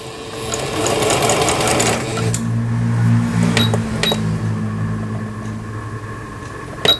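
A Singer 7258 household sewing machine stitches a zigzag pattern in a fast, close mechanical chatter, then slows into a lower motor hum with a few clicks before stopping.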